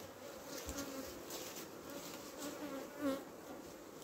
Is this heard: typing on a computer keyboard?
no